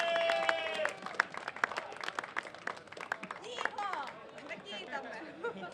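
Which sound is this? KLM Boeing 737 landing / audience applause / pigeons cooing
audience applause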